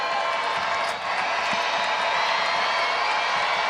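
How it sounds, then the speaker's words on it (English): A basketball arena crowd of Lynx fans screams and cheers during a WNBA game, a loud, steady roar that never lets up across the whole moment, with no clear single voices. "The Lynx fans are screaming too."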